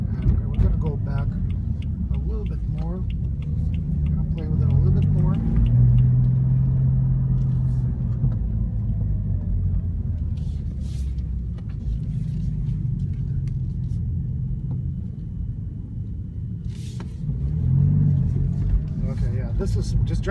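A 2015 BMW M4 drives through city streets, its engine a low steady rumble with occasional swells as it accelerates, heard from inside the car while a person talks over it.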